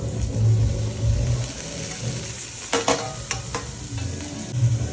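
Tomatoes drop into a frying mutton biryani base of coriander and mint, giving a close, steady sizzle with a few sharp spatula scrapes and stirring clatters partway through over a low hum.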